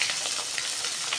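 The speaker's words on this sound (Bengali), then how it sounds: "মাছগুলো ভাজছি" Fish frying in a pan, a brief close crackling sizzle with small popping spits, steady and alone.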